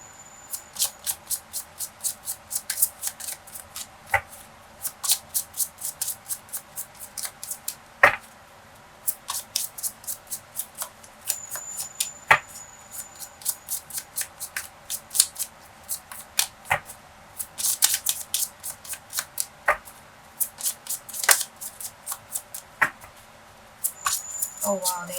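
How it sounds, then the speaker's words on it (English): A deck of tarot cards being shuffled up close, quiet repeated riffles and soft slaps in irregular bursts with short pauses between, alone with no talk over it. "I also talk over when I shuffle"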